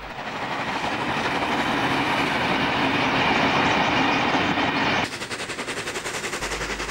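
Steam locomotive 3664 hauls a train northwards in New South Wales, Australia, a loud, steady rush of exhaust and rolling noise close by, shifting after about five seconds into a rapid, pulsing clatter.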